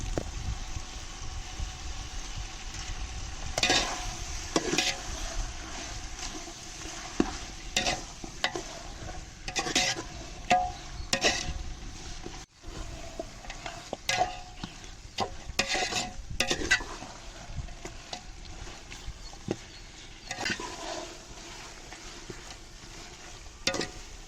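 Mutton sizzling as it is sautéed in a pan for dum biryani, with a steady fry hiss broken by repeated scraping stirs of a spoon against the pan, close and moderately loud, with no talking.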